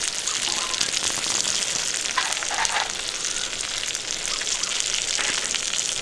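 Tomatoes hiss and spatter as they fry alongside onions in a pan, a close, even sizzle with brief stirring scrapes throughout and no voices.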